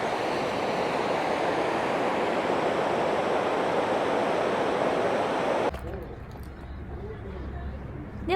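Kinugawa river flowing beneath a pedestrian suspension bridge amid deep green forest at Kinugawa Onsen, a steady broad rushing wash that cuts off abruptly to quieter ambience with faint bird calls.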